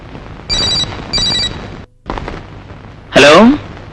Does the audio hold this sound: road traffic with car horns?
no